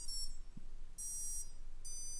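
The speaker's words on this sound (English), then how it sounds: "ESC was beeping, that means the coils are fine." An RC electronic speed controller on a rewound brushless motor gives high electronic beeps after the battery is plugged in, three short tone bursts in a faint, quiet room.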